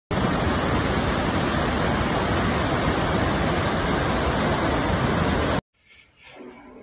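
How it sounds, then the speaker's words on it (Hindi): Roaring floodwater of the swollen Kunar river rushing past shops in a town, a dense, loud, continuous wash of noise that cuts off abruptly near the end, leaving faint background sounds. "ये है ठाठे मारता दरियाए कुनार का पानी"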